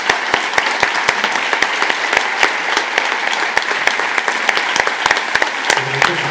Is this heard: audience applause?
yes